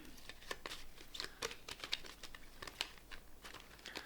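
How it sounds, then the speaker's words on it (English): TBR cards being shuffled by hand, a quick irregular run of papery flicks and crinkly snaps, close and fairly soft, continuing for a few seconds. "So we're just gonna shuffle them a little."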